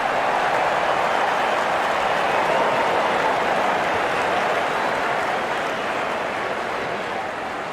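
Steady roar of a stadium crowd cheering and applauding at an India versus Sri Lanka cricket match, a dense, continuous wash of noise that stays loud and even throughout with no clear breaks.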